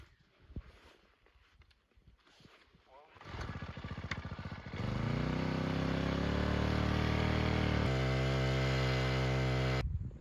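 A gas-powered rope winch in snowy mountains, hauling a snowmobile with a broken crank up a slope, starts after some talk and settles into a loud, steady engine drone.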